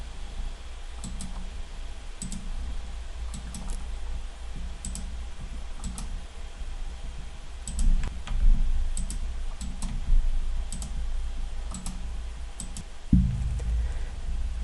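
Sparse, crisp computer mouse clicks during spreadsheet table work, single and double taps at irregular intervals over a quiet room hum, with no talking.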